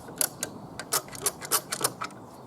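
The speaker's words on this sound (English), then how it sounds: "Now I'm going to clamp this down." A clamp is tightened down on wood, giving a sparse series of short ratcheting clicks and taps at close range, irregular in spacing and fairly quiet.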